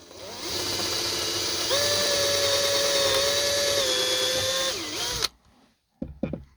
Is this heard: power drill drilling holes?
yes